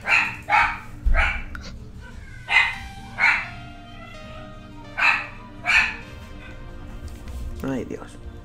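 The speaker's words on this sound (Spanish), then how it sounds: "Joder, el perrito de los cojones." Sharp yips from a small dog come in short doubled bursts, close and loud, separated by pauses with a low background hum and a brief voice near the end.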